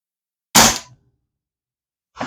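An RCO De Masculator air rifle fires Spain-made 14.3 grain pellets: one sharp, loud shot with a brief tail, silence, then a second shot starting just as the clip ends.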